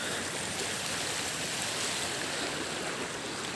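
Strong floodwater rushes past in a steady, broad roar, continuous and fairly distant, with no voices.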